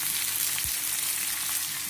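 Onion and tomato frying together in a pan for dal vangi, a steady close hissing sizzle with one soft low knock from a utensil, no voices.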